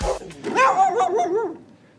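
A single dog lets out a drawn-out, whiny bark that rises and wavers into a yelping whimper, close and fairly loud, with no talking.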